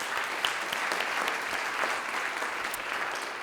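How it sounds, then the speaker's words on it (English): Steady applause from an indoor community event audience, dense and continuous for a few seconds at moderate loudness, with no talk over it. "So let's write a round of applause."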